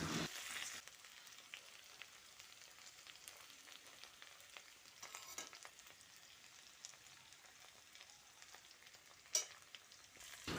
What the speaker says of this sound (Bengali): ঢাকা খুলে আবারও সব কিছু নাড়াচাড়া করে নিলাম